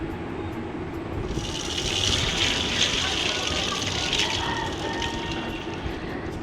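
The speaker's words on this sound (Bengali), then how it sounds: "আর এখানে আমি জল ভরতে চলে এসেছি" Water gushing steadily from a pump into buckets outdoors, a continuous loud rushing splash that brightens as the flow picks up, close by with no talking.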